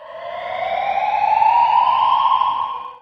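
An apartment fire alarm siren sounds during a fire system commissioning demo, a loud, close, continuous tone rising in pitch while swelling and then cutting off at the end, with no one talking.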